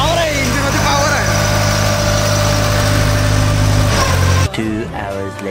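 A vehicle engine idles steadily and loudly for several seconds with a constant low rumble and vibration, then cuts off or drops abruptly near the end.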